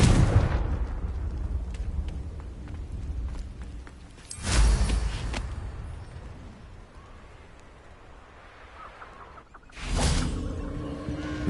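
Confringo blasting spell explosions in Hogwarts Legacy, striking rocks: two loud, sharp fiery bursts several seconds apart, each followed by a rumbling decay over a low background.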